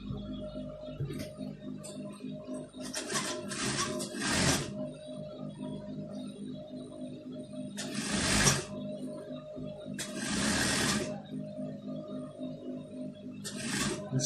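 A sewing machine top-stitching fabric for a sleeve with stud and cufflinks, running in several short whirring bursts separated by quiet pauses, close and fairly loud.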